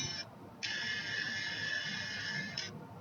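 Gibson Min-ETune robotic tuner motor turning a guitar tuning peg gives a steady mechanical whir that runs for about two seconds after a short burst, close and fairly loud, with no talking.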